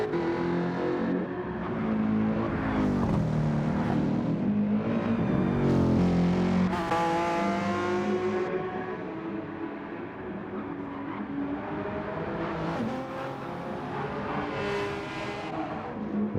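Group 3 race cars at Bathurst in Gran Turismo 7, engines revving and shifting through gears as they come down the mountain, loud and close with rising and falling pitch over about sixteen seconds.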